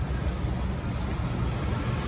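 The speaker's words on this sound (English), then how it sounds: "Let's take a good listen to the engine." The 4.5 liter V8 of a 1991 Cadillac Allante idles with its hood up, giving a steady low rumble and broadband hum heard close, constant and unbroken.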